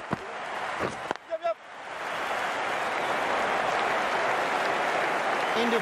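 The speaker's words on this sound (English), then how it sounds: "The crowd on their feet." Crowd at a cricket stadium during an India vs Sri Lanka one-day international, cheering and applauding in a broad sustained roar that swells after a few sharp claps and stays loud to the end.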